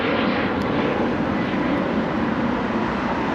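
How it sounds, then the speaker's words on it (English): A Southwest Airlines plane takes off, heard as a steady, broad roar with a low rumble underneath, constant and fairly loud throughout, with no voices. "you can hear a plane taking off, so Southwest Airlines"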